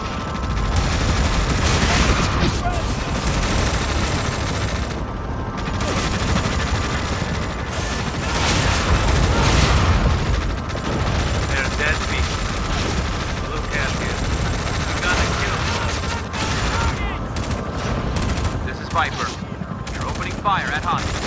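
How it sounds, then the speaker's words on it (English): Dense, continuous battlefield gunfire and artillery bursts in the Tom Clancy's EndWar game, loud and unbroken throughout with scattered sharper blasts, while radio-style voices talk over the barrage. "Artillery fire on our position."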